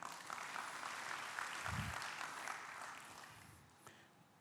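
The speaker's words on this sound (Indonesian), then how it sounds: "Yang setuju berikan tepuk tangan dong." A church congregation gives a round of applause during a sermon, a soft, steady wash of distant clapping that slowly fades, with a brief low thump partway through.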